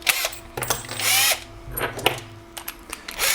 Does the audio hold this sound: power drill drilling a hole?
yes